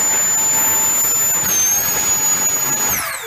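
A small air-driven Tesla turbine spinning up on about 22 to 30 psi of compressed air, a steady loud high-pitched whine with a sliding tone and rushing hiss, shifting pitch near the end.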